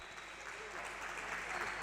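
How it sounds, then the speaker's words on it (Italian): Spectators at a Serie A2 Élite futsal match between Benevento and Italpol applaud both teams after the final whistle. A soft, continuous wash of distant clapping sits under a commentator's voice. "Applausi ad entrambe le squadre"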